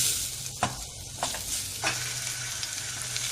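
Chopped onions sizzle gently in a pan as they soften, with a steady hiss and a few scraping stirs, close and alone with no talk.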